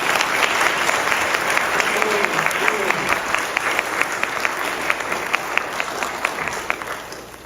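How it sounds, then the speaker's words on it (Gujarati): A large audience at a Shri Krishna Charitramrut Katha gathering in Minnesota applauds strongly, a sustained wash of clapping with sharp individual claps, with some talk underneath. "એકવાર એ બધા માટે એકવાર જોરદાર તાળીઓ પડી જાય"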